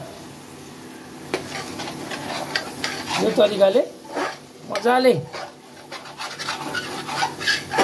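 Masala stirred in hot oil for Kashmiri dum aloo gives scraping, sizzling strokes in short bursts, with a person talking over it throughout.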